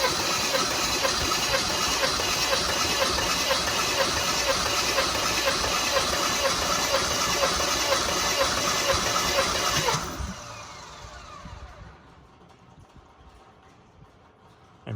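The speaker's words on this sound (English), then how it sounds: "crank the engine with the throttle wide open" A blue Mercedes 300E with 148k km is cranked with the throttle wide open during a compression test, giving a loud, steady rushing whir for about ten seconds that then cuts off abruptly into near silence.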